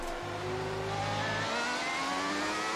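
Formula One car in the Classic F1 Championship racing game on a wet German circuit, its high-pitched engine whining upward through the revs with a sharp drop at each gear change, loud and steady with no talk.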